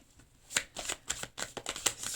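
Tarot cards shuffled by hand in a quiet room, a series of soft riffling and slapping bursts in quick irregular rhythm, close and fairly faint.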